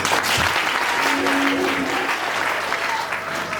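Wedding guests at Sharon and Nelson's ceremony break into continuous close applause, a dense patter of many hands that holds steady throughout with a brief tonal sound in the middle.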